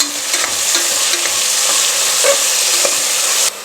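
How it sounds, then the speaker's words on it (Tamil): Chopped onions and tomatoes sauté in a hot pan, with a loud continuous sizzle and occasional scraping stirs throughout, no voices over it. "வெங்காயம் வந்து ரொம்ப கோல்டன் ஃப்ரை வேணாம், ஓரளவுக்கு வதக்கினா போதும் ஃப்ரெண்ட்ஸ்"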